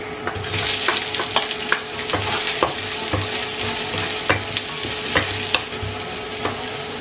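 Onions and garlic sautéing in a pan for pork menudo, with a constant close sizzle and repeated sharp scrapes and taps of a spatula against the pan in an uneven rhythm.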